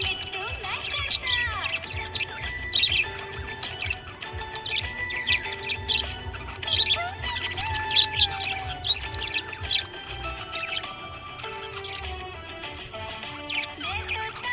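Happy budgie parrot chirping, rapid bright tweets and warbles repeating throughout over a background of sung music.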